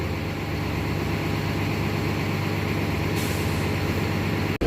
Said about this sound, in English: We just need a bus to take us into the rest of Fort Wilderness.